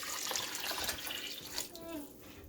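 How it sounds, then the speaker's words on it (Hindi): About two cups of yakhni stock are poured into a pot of oil-fried vegetables for Chinese pulao. A steady close splashing pour thins out toward the end. "मैंने इसमें यखनी शामिल कर दी है।"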